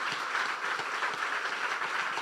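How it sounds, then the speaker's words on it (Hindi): A church congregation applauds during a Hindi sermon, a dense, steady wash of many hands clapping at once, sounding somewhat distant and roomy, with no talking over it. "यीशु के जलाल के लिए जोरदार तालियां बजा दें।"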